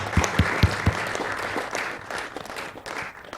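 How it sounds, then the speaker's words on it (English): A gaming-marathon audience applauds in a dense burst of clapping, with a few loud nearby claps at the start, then the sound fades and thins out. "Y'all give him a round of applause"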